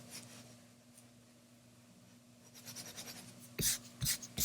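An eraser rubs out pencil construction lines on paper, soft scrubbing at first, then louder brisk strokes in short bursts near the end.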